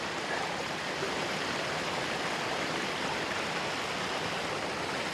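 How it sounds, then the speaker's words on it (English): A small waterfall flows continuously in a steady, even rush of falling water, close and moderately loud, with no talking. "even though this is a bit of a smaller waterfall"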